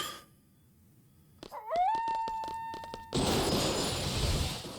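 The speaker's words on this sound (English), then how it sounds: "Where's that dog's making a lot of noise?" A dog howls inside Final Fantasy VIII: a rising wavering howl settles into one long sustained tone with clicks around it, then gives way to a burst of loud broadband noise.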